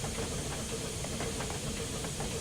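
Steam hissing from the injector of a 4-4-0 steam locomotive in Train Simulator Classic, a steady, dense broadband hiss with a low mechanical rumble beneath, continuous and fairly loud throughout, no speech.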